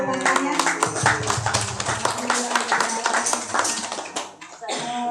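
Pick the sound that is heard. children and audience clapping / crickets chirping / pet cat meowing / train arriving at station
children and audience clapping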